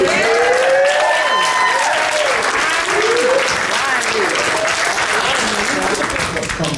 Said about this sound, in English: Let's clap hands for our youth choir director.